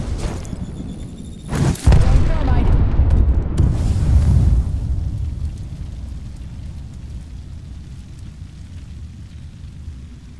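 Frag grenade blast in the video game Apex Legends: a sharp loud boom near two seconds in, followed by a rumbling roar that slowly fades over several seconds.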